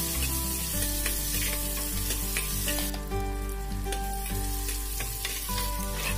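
Small onions and green chilies sauté in a pan for a fish curry, a close, steady sizzle of frying with occasional scraping and stirring clicks, no voices.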